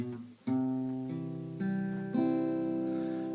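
Acoustic guitar picking the second part of a song's intro, a few sustained ringing notes and chord changes struck one after another, close and clear with no voices.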